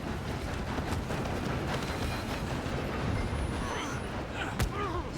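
A train rumbles along in Red Dead Redemption 2 with a steady, loud rolling roar and occasional metallic clanks and squeals, while voices are heard over the noise.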